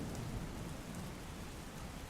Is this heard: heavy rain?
yes